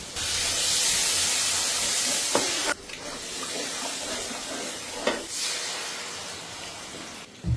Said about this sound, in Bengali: মশলাগুলোকে খুব যত্ন সহকারে কষে নিলাম